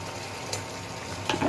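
Egg korma curry with green chillies bubbling and simmering in a pan, a soft continuous sizzle with brief louder pops near the end.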